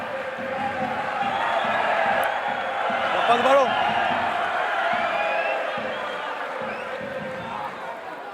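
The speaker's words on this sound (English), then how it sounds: "has brought the home crowd to life" The home crowd at a Bayonne vs Perpignan Top 14 rugby match keeps up a broad, lively roar that swells in the middle. A voice speaks briefly over the noise.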